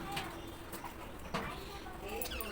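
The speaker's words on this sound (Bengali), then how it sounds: "কেন এত কিচিরমিচির করছো বুলবুলি?" Bulbul birds chirping near a home kitchen, with short, scattered calls sounding at a moderate distance over a steady background of household noise.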